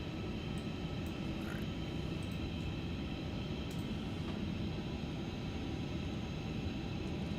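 A steady, low engine rumble from an airliner taxiing toward the holding point in Microsoft Flight Simulator, continuous and even throughout, with faint ticks and clicks above it.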